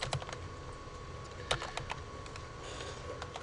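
Fingers typing on a computer keyboard while writing a Python script, a brisk, uneven run of close, light clicking keystrokes with one harder tap midway.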